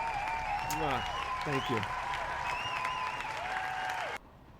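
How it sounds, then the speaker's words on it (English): Canned applause from a sound effect plays steadily for about four seconds over video game music and a voice saying thanks, then cuts off abruptly. "Thank you for humoring me with my canned applause."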